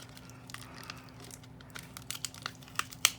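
Cardboard doll packaging with taped-in dolls crinkles and rustles close by, soft irregular handling noise that builds to a few sharper crackles near the end, with no talking.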